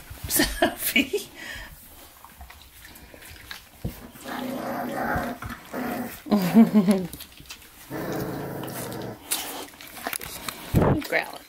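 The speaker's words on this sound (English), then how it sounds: "Who's that growling?" Boxer puppies in a litter growling and whimpering in low rumbling bursts, close by, with someone talking over them in places.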